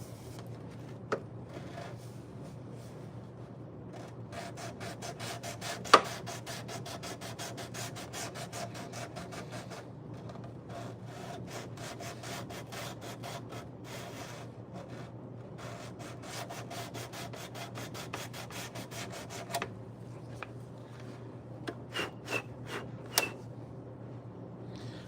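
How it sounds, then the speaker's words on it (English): Sandpaper rubs steadily across the binding of a guitar under repair, a dry rhythmic rasp of close back-and-forth strokes that carries on for the whole stretch, with a few light knocks near the end. "I'm gonna go ahead and start to sand it off like that"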